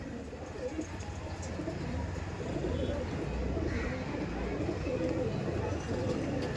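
Red Chinese pigeons coo softly in a loft, a low steady murmur of several birds blended with background noise and faint voices.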